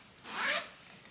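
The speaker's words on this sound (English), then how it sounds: "And it zips up." A single quick zip closes a fabric sleeve around a hardback book. The pull is close, crisp and brief, with a faint hiss on either side.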